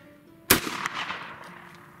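A single sharp shotgun blast from a reloaded Fiocchi Dove shell, loud and close, with a short echo trailing off outdoors.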